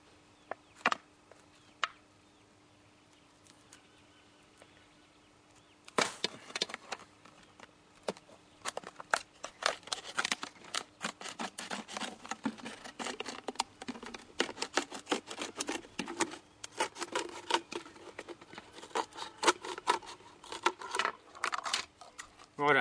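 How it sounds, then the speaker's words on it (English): A plastic bottle gets its top cut off at the neck for a fruit fly trap, quiet handling at first, then a long, dense series of close crisp snips and crackling plastic clicks, irregular and growing busier. "So we'll cut that off."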